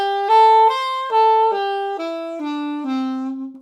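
A major pentatonic scale in C played note by note on a sustained, harmonically rich instrument, eight clear steps rising and then falling, each tone held about half a second, solo and unaccompanied.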